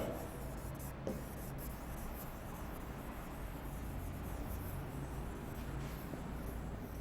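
Electron configurations are written on a board in a chemistry lesson, making faint, steady scratching and tapping strokes over a quiet room hum, with no one speaking.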